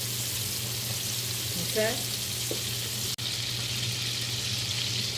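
Butter melts and sizzles in a pan for a breakfast dish, making a steady, even frying hiss throughout. A person says a single short word partway through.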